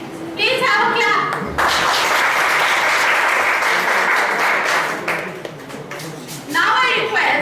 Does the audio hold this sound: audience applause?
yes